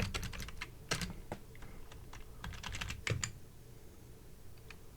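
Fingers type on a computer keyboard in quick, irregular bursts of close keystrokes, with short pauses between clusters and no voices.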